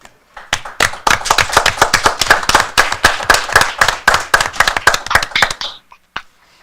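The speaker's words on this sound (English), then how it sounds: "I think Wyatt deserves a round of applause." A small group at a board of supervisors meeting claps for about five seconds, sharp distinct hand claps close to the microphone in a quick steady rhythm, then fades out to near silence.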